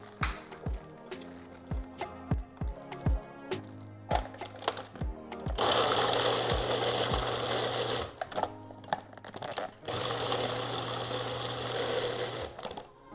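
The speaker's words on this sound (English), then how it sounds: "So we have our food processor." A food processor chopping fresh cranberries in short pulsing bursts that end in a longer continuous whirring run, close and loud with brief clattering pauses between bursts.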